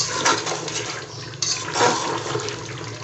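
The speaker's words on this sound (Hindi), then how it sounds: "और अब इसमें पानी शामिल कर देते हैं।" Water poured from glasses into a pot of aloo gosht that has just been browned, a steady close splashing and gushing that keeps going and swells twice in volume.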